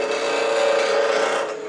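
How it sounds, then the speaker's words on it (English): A 5/8 inch spindle gouge roughing out an exotic wood blank on a lathe, a steady close scraping hiss with a ringing tone, brief and uninterrupted. "I'll go back to roughing this out with my 5/8 inch spindle gouge instead of a roughing gouge"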